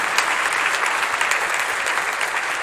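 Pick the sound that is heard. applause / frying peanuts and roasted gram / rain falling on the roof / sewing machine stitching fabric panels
applause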